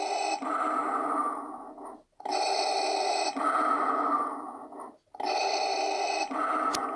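The electronic sound effect of a Black Series Darth Vader helmet plays a steady hissing, breath-like loop in three long cycles separated by brief gaps, fairly loud and heard on its own.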